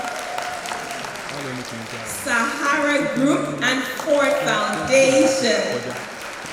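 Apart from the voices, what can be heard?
audience applauding sponsors at awards event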